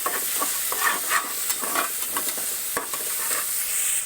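Onion stir-fried in a hot pan for a quick ration-rice dish: a continuous loud sizzle with repeated scraping strokes of a spatula, close up.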